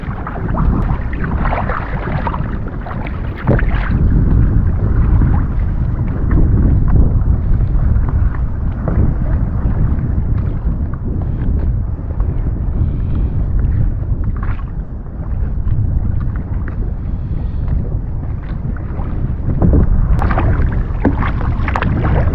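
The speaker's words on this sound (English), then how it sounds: "Yeah, I'm getting cold now, it's time to paddle in." Kayak paddled out at sea during a fishing and crab-potting trip, a steady broadband wash of water and wind with paddle splashes recurring throughout, loud and continuous with no voices.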